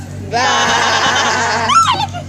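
A person imitates a sheep bleating with one long, loud, wavering baa that breaks into a shorter quavering bleat at the end, voiced close and alone.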